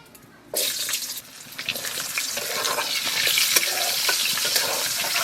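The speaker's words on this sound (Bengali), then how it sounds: "ওই তেলে আলুগুলো ভেজে দেবো।" Potatoes drop into hot oil left from frying pangasius fish, with a sudden loud burst of sizzling that settles into a steady, close, vigorous frying hiss with no talk.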